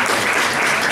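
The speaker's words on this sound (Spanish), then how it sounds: "Osvaldo, un aplauso a Osvaldo" An audience at a talk in a Madrid pub applauds, a dense, steady burst of clapping that fills the space at close range without any speech over it.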